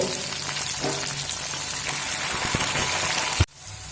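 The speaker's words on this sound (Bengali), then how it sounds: "মিডিয়াম ফ্লেম করে লবণ দিয়ে কিছু সময় ভেজে নেব" Green beans frying with salt over a medium flame, a dense continuous sizzle that runs loud and steady before cutting off abruptly near the end.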